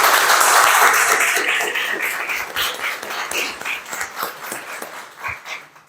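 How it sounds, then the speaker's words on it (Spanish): An audience bursts into loud applause after a degree exam presentation, sustained clapping that starts strong and gradually thins out and fades. "pues un aplauso."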